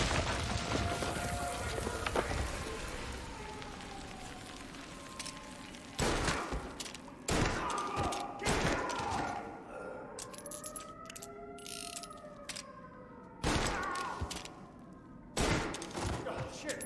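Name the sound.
gunfire in the video game Mafia Definitive Edition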